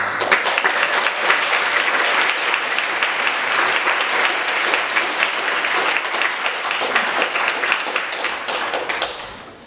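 Sustained applause from a church congregation at a Thanksgiving worship service, a dense roomful of clapping hands holding steady for about ten seconds before tapering off at the end.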